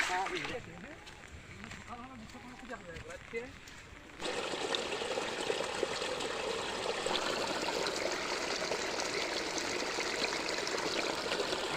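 Stream water flows steadily in a jungle setting, a continuous close trickling rush that grows louder after a few seconds, with people talking over the start.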